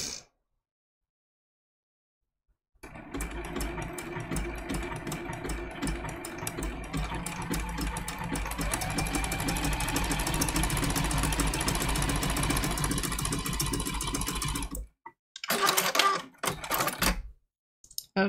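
Sewing machine running a blanket stitch on an appliqué turkey quilt block, a loud continuous rhythmic whir that starts after a silent pause, lasts about twelve seconds, then stops and gives way to short bursts.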